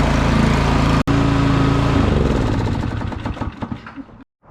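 Cold residential lawn mower engine idling to warm up, loud and close with a rapid, steady putter. After a brief dropout it slows, sputters and winds down, then goes silent.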